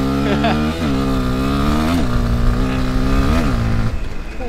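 An Aveta VTM 250 LX motorcycle engine drones loudly and close, its pitch dipping and rising as it slows and swings around in a U-turn, then accelerates away.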